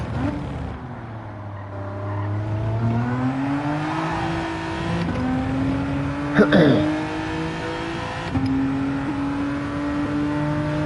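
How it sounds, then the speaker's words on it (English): A racing car in Gran Turismo 7 accelerates hard, its engine note climbing through rising gear pulls with brief shifts between them and a short scrape of tires near the middle; a voice talks over the engine. "once you've got it pointed in the right direction, you could just slam in the throttle and it turns around the apex really well"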